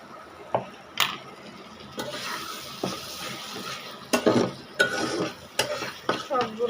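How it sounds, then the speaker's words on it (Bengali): Two beaten eggs and cooked tomatoes are stirred together in a pan: irregular scrapes and sharp clanks of a utensil on the pan, close by, over a soft frying hiss. "সবগুলো একসাথে নাড়তে থাকবো।"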